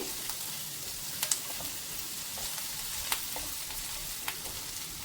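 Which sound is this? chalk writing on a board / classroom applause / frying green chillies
frying green chillies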